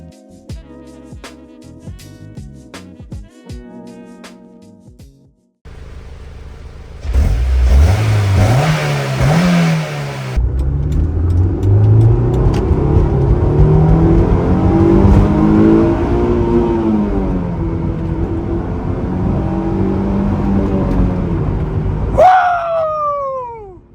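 A car engine idles, then revs hard and climbs through the gears while driving, loud and close, with a musical intro at the start.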